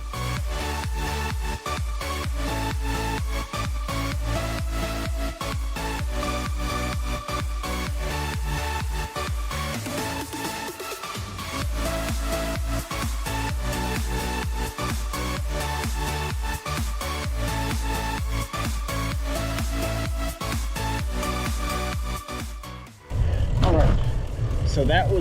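Riding a bike downhill at roughly 12 to 15 miles per hour, filmed on a GoPro HERO9, gives a constant broadband roar of wind and rolling noise throughout. It briefly dips midway and shifts near the end.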